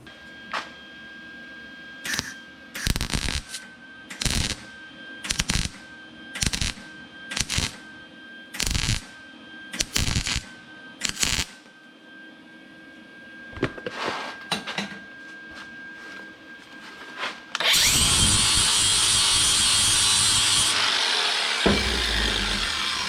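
Someone tack-welds on a Ford Model T hot rod in short, even bursts of crackling buzz separated by pauses. Then a louder, longer burst of harsh grinding-like noise sounds near the end.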